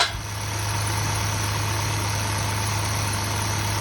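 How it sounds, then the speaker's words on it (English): A Jeep Wrangler JK engine idles steadily with a newly installed alternator, a close, even, continuous hum and low rumble with no talking. "that nice silent running alternator that you hope you hear after you change things out"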